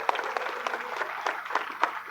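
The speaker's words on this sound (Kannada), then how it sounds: "ಎಲ್ಲ ಯುವಕರಿಗೊಮ್ಮೆ ಜೋರಾಗಿ ಚಪ್ಪಾಳೆ ತೊಟ್ಟನ ಬಂಧುಗಳು" An audience at a religious gathering for a swami's talk claps in a brief, steady patter of applause, moderately loud and unaccompanied by speech.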